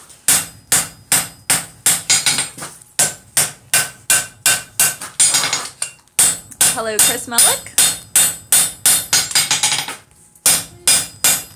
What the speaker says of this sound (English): you need a hammer to make a hammer